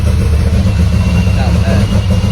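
A Volkswagen VR6 car engine running at a steady idle, loud and close, with a constant low rumble through the short stretch and no distinct start-up burst.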